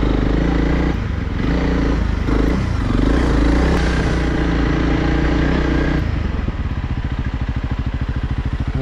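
A light off-road motorcycle ridden over rough ground, its engine loud and close throughout, revving and rattling before settling into a steady rhythmic chug near the end.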